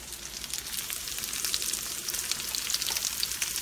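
Sliced yellow and orange peppers and onions fry in a hot pan, a dense continuous sizzle and crackle that stays loud and steady throughout, heard up close with no talking.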